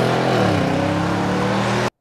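A 2021 Nissan Titan pickup's V8 engine rumbles steadily and loudly up close for about two seconds, a deep, even tone with no talking, then cuts off abruptly.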